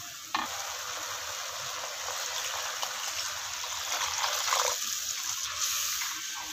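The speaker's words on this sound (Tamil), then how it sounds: "இப்போ நம்ம தேவையான அளவு தண்ணி விட்டுடலாம்." Water pours steadily into a simmering Kerala-style fish curry, a continuous rushing hiss mixed with bubbling and sizzle, close by and fairly loud.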